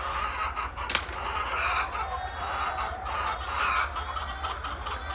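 Chickens on a farm cluck continuously in a dense, busy chorus, with many birds close by and overlapping calls throughout.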